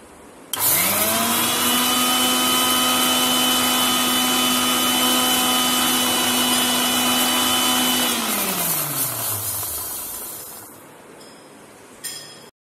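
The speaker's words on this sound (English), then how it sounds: "now I will grind the sesame seeds" An electric grinder whirs loudly as it grinds sesame seeds into powder, starting abruptly with a steady high motor whine, then spinning down and fading before a brief clatter at the end.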